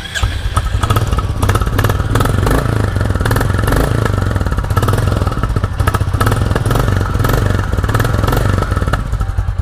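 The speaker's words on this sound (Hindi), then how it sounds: "सबसे पहले क्लासिक को स्टार्ट करा जाए" Royal Enfield Classic 350 single-cylinder motorcycle engine idling close up after starting, with a loud, steady rapid thumping beat and mechanical clatter throughout.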